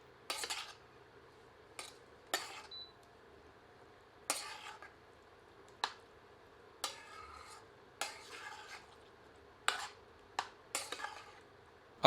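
A spoon stirs potato pieces into spinach in a pot, giving a series of scattered scraping clinks and knocks against metal with quiet gaps between them and no talking.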